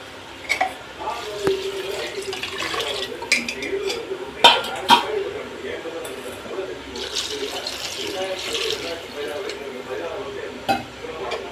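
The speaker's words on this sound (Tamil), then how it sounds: "இப்போ நம்ம எவ்வளவு சாம்பார் வேணுமோ அந்த அளவுக்கு தண்ணி ஊற்றிடலாம்" Water for sambar runs and splashes into a metal pot amid clinking utensils, with a voice talking over the kitchen noise.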